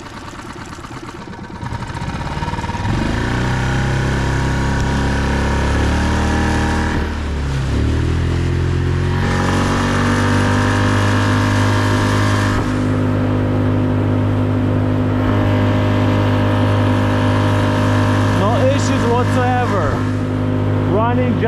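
A Tohatsu 6hp outboard boat engine, previously prone to bogging down, starts and runs loudly up close, its pitch rising and dipping with throttle changes before holding a steady drone.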